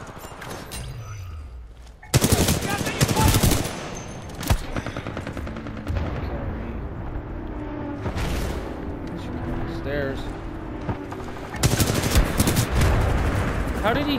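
Bursts of automatic gunfire and heavy shots from an Attrition match on the Forwardbase Kodai map in a first-person shooter game, loud clusters of rapid fire separated by quieter stretches, with a player talking throughout.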